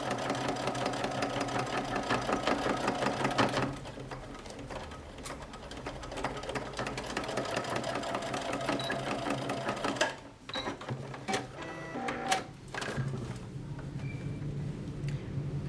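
A sewing machine stitches a necessaire box with a handle, running in a steady, fast mechanical whir, pausing briefly near the end, then giving a few sharp clicks and short restarts.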